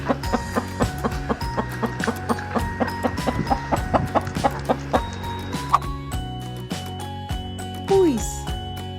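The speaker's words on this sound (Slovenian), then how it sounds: "kokoš." A hen clucks repeatedly in short choppy bursts over upbeat music, the clucks close and fairly loud throughout.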